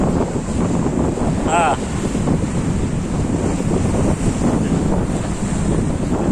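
At Devbag beach, where a river meets the sea, loud wind and rolling surf fill a steady roar that buffets the microphone, broken briefly by a short tonal call near the start.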